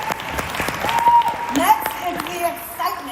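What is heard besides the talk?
audience applause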